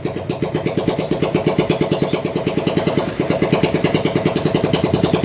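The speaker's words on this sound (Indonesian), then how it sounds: "Tuh bocah berisik banget itu lagi ngidupin motor Mio habis ganti piston." A Yamaha Mio motorcycle that has just had its piston replaced is being started and revved, its engine firing in a steady, rapid, loud pulsing rhythm close by, with no talk.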